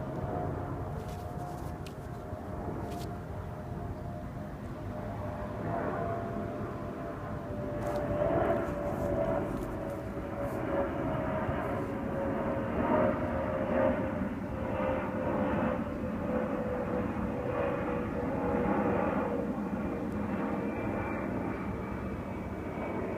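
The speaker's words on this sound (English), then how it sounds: "Another bloody plane." An airplane passes overhead, a sustained engine drone with a slowly falling tone that swells toward the middle and lingers, steady and moderately loud, with no talking over it.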